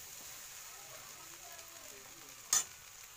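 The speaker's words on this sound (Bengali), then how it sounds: "ঘিটা মিশিয়ে দিচ্ছি।" Ghee being stirred into rice in a pan, a quiet continuous sizzle and soft scraping under low background noise, with one brief louder clatter near the end.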